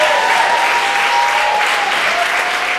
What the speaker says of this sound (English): So clap it up one more time for Francis.